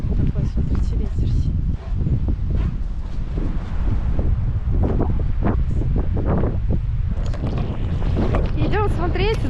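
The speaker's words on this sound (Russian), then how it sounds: "Такой, смотрите, ветер." Strong wind over the frozen Vileyka Reservoir in winter buffets the microphone in loud gusty rumbles while a person talks over it.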